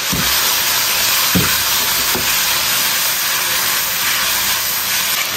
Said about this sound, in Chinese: 加入青姜蒜，一片香醋叶子，翻炒一下，炒出香味儿